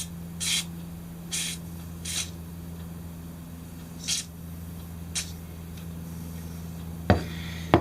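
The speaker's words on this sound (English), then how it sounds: "Let's see what happens when we spray some lubricant down here." Five short hissing bursts of lubricant spray hit an RV slide-out's rollers, spaced a second or so apart over a low steady hum, followed by a couple of sharp knocks.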